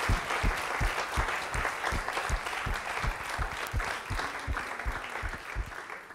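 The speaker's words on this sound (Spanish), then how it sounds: "Dele aplauso al Señor" A church congregation applauding the Lord with rhythmic, evenly spaced clapping, a steady beat of sharp hand claps over a dense wash of crowd applause throughout.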